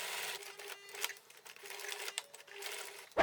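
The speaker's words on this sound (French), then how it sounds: "Je plie endroit contre endroit et je couds sur les côtés." A sewing machine stitches the sides of a fabric bag folded right sides together. The stitching comes in faint, uneven mechanical bursts, with no talking.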